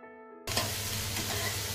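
Two medium chopped onions frying in a hot pan for a chival (ghol) leafy vegetable bhaji: a sudden loud, steady sizzle bursts in after a quiet moment and continues close and unbroken.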